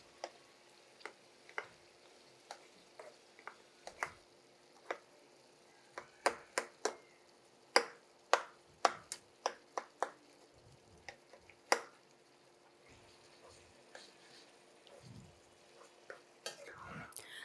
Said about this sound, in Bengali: এখন আমি সবগুলো টমেটো গালিয়ে নিব।